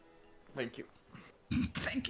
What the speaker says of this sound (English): It was more of a repressed cough